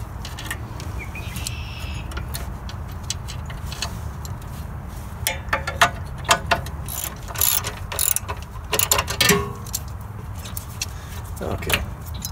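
A hand ratchet clicks in quick bursts while tightening a bolt on the gas tank of a Honda GX160 engine during repair, close and crisp, with some low background noise.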